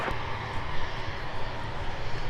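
A jet airliner rolls for takeoff on runway 12 right at Minneapolis–St. Paul airport, a steady broad engine roar at middle distance with no voices.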